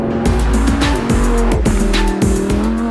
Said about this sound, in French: Le V10 hurle.